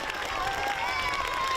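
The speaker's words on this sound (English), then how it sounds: "Give them a round of applause, everybody." Brief burst of crowd applause at a Veterans Day gathering in Westbrook, a dense steady patter of many hands with a faint whistle-like tone over it.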